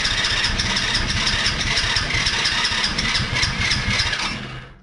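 A newly installed buggy engine sputters and churns continuously in rough, rapid pulses as it is coaxed to start, fairly close and loud before cutting off at the end.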